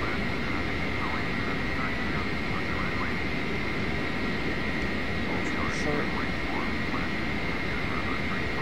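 A Boeing 707-321 jet taxiing in the FSX flight simulator game gives a steady, unbroken engine drone and hiss throughout, with faint indistinct voices beneath.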